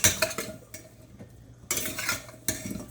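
Chicken, potatoes and cauliflower with whole garlic cloves are stirred in a pan, with several bursts of scraping and clattering utensil strokes separated by brief quieter pauses.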